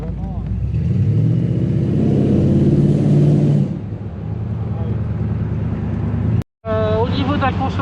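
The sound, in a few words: 1974 Corvette C3 Stingray engine while driving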